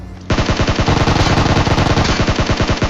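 SCAR-L rifle fire in PUBG Mobile, a loud sustained automatic burst of rapid rhythmic shots lasting a few seconds after a brief quieter lead-in, with no speech.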